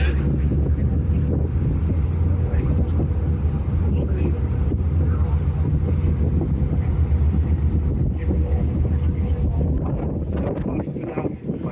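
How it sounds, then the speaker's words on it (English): A speedboat on the way to Mykonos: a loud, continuous engine drone under heavy wind buffeting the microphone, with muffled voices faintly beneath. "We're on a speedboat."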